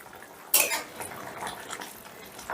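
A lid comes off a pot of lemon chicken after ten minutes of covered cooking on medium heat, giving a sharp metallic clatter, followed by lighter scrapes and clinks of cookware and a soft bubbling patter.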